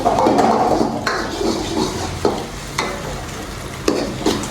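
Egg rice is stir-fried and roasted in a pan, with a close, loud sizzle and a spatula scraping and clanking against the metal in irregular strokes.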